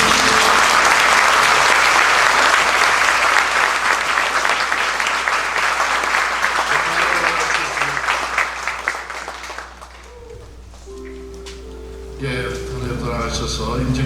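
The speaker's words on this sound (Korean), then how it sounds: "여러분 크게 박수를 드립니다" Loud, dense applause fills a church at a Korean ordination thanksgiving service, sustained for about ten seconds before thinning, then giving way to a few voices and a brief musical swell.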